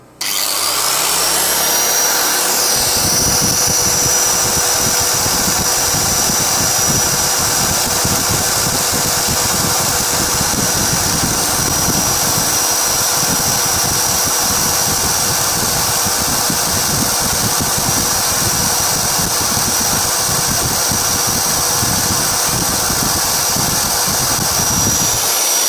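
A Hasston 3150-001 angle grinder runs steadily at high speed, a loud continuous whine with a dense motor drone that starts abruptly after a brief quieter moment and holds level without any talk.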